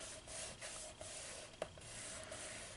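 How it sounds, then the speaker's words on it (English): Glued material on a cat-themed craft being burnished, a quiet, close rubbing and scraping in short repeated strokes with a couple of small taps. "I'm just burnishing that in."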